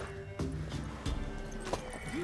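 Horse hooves clip-clopping with brief neighing in The Witcher 3, several loud hoof thuds spread across a short game scene over a steady background hum.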